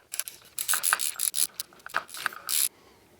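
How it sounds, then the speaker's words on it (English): Ratcheting clicks in several quick bursts, close and fairly loud with short pauses, as a new 15 mm nut is tightened onto the piston rod of a Mitsubishi Lancer CE shock absorber; no one talks. "So we've tightened the piston rod nut up."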